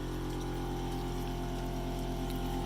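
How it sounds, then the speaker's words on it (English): A steady, continuous hum and bubbling drone from an air compressor feeding air into a duck pond's gravel media filter, constant in level throughout with no voices. "If you hear the compressor on"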